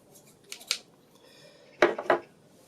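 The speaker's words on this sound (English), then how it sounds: "You'll need something to cut the foam," Scissors cut through foam for a craft worm puppet, giving two clusters of close, crisp snipping strokes separated by a short pause.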